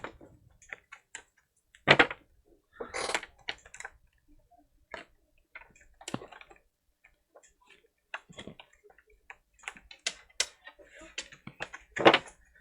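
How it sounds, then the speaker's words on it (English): Tarot cards being shuffled give scattered, irregular soft clicks and riffling flicks with a few sharper snaps, close and fairly quiet, with pauses between bursts. "I want to shuffle them like that a couple times to get them spread out."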